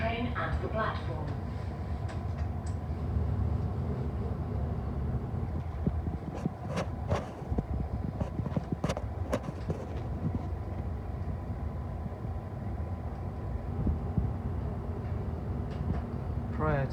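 A TfL Rail train on the journey from Paddington to Heathrow Airport rumbles steadily from inside the carriage, with a few sharp clanks and squeals partway through and voices talking over it.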